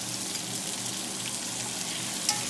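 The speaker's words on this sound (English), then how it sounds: "So just give this a little quick saute" Aromatics sauté quickly in a hot pan while duck is being cooked, giving a steady, fairly soft broadband sizzle with no talking.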